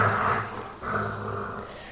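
A pet dog growls while being bathed against its will, two close, loud throaty growls separated by a brief pause, with no one talking.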